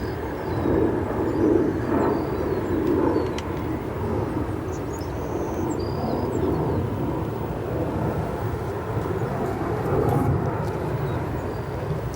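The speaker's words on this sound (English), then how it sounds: "Next we have our 787 departing." A Boeing 787 departs O'Hare, its engines giving a steady, loud broadband roar that swells slightly and holds for the whole stretch, with no voices.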